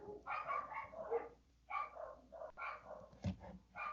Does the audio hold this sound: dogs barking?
yes